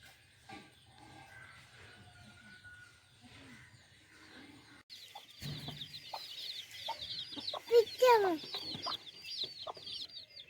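A hen clucks repeatedly near a coop, with irregular close bursts of clucking that grow louder and busier in the second half, and some faint background voices.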